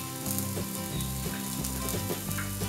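Potatoes and carrots for vegetable biryani fry in a pan with a continuous close sizzle and light stirring scrapes, under steady background music.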